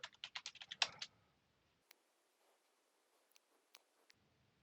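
Rapid keystrokes on a computer keyboard while entering a username and password, a dense close burst of clicks for about a second, then a few isolated faint taps in near silence.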